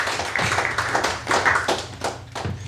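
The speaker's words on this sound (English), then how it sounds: "Let's get a round of applause going for Alexa, everybody." A studio audience claps as the next guest, Alexa, is welcomed up; a brief burst of applause with distinct hand-claps rising and falling over under three seconds, moderately loud.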